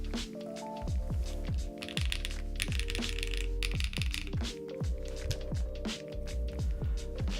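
Typing on a Space 80 R2 mechanical keyboard: a dense, irregular run of sharp clacky keystrokes with hollow resonant thocks, close and alone for several seconds.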